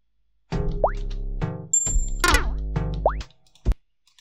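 Pitched-down cartoonish bird flap sound effect from a Unity-built Flappy Bird game, played three times in a row, each a low boing-like tone with a downward bend, loud and close with short gaps and a brief thump after.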